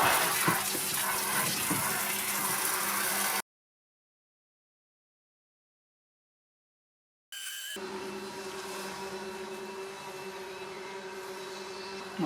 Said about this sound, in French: On va regarder le débit avec un arrosoir de 12 litres.